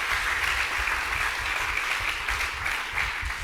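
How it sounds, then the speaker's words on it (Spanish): A church congregation claps for Jesus Christ during a sermon, a steady moderate round of applause with no speech over it. "denle un aplauso fuerte a Jesucristo"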